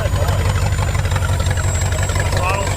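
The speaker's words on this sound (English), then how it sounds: "It's actually just idling on its own." A long-neglected car engine idles steadily on its own with a throttle shaft vacuum leak, a low, even rumble throughout, close by, while people talk over it.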